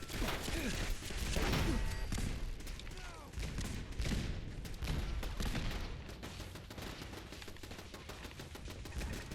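Rapid bursts of automatic turret gunfire in the video game Fallout 4, dense loud volleys with booming impacts and mechanical clatter, sustained throughout.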